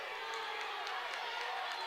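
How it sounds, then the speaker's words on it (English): A crowd cheers and shouts steadily throughout a high school heavyweight wrestling match between Valley and Ankeny, a dense wash of voices with a few sharper yells rising out of it. "The crowd's cheering him on."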